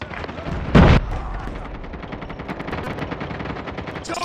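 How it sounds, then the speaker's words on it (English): Automatic sentry gun fire in Call of Duty Mobile, a dense, loud stream of rapid shots that runs for several seconds, with a sharper burst near the start. "Hostile sentry gun in your AO."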